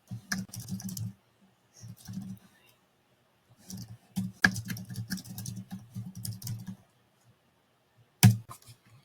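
Text being typed on a computer keyboard in short, close bursts of rapid key clicks separated by pauses, ending with a sharp louder keystroke.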